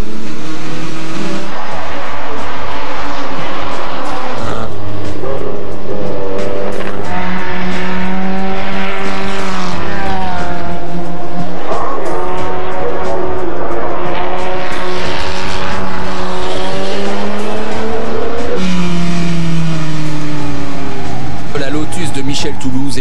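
Vintage race cars built between 1957 and 1961 roar past at the Le Mans Classic, engines loud and rising in pitch as they pass, with a narrator speaking over the racing.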